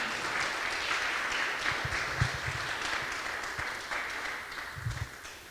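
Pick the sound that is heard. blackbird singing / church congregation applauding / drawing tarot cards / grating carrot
church congregation applauding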